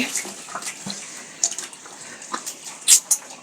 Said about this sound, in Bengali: পানি দিতাছি না মা গরু রে